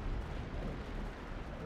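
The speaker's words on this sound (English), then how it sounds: "Battle tank for Imperial Guard has that front mounted las cannon" Lascannon fire from a Leman Russ battle tank in Dawn of War 2: Retribution, a brief, dense roaring burst of battle noise with low rumble, loud and continuous for under two seconds.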